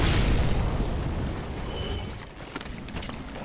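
In Dark Souls III, a thrown fire bomb bursts into a loud, rumbling explosion that rolls out and slowly fades into a crackling, fiery tail.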